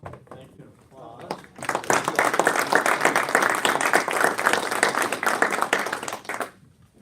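An audience at an economic development event breaks into sustained, steady applause that fills several seconds before fading out, with a speaker's voice around it.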